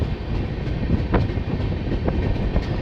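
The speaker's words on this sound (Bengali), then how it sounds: "মুসলধারে বৃষ্টির মাঝে ট্রেন এসে পৌঁছালো গোয়ালপাড়া টাউন স্টেশন" A passenger train on a hilly monsoon route pulls into Goalpara Town station in pouring rain, with a steady dense roar of heavy rainfall and rolling rail noise, and a few sharp clacks of wheels over joints close by.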